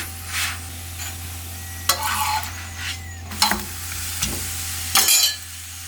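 Chicken paratha sizzles in a pan as it is turned and pressed, giving repeated scraping and stirring bursts over a steady, quiet frying hiss.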